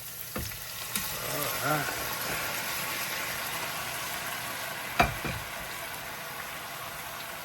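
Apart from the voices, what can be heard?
sautéing chicken gizzards in a pan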